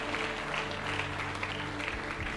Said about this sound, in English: with a round of applause, a standing ovation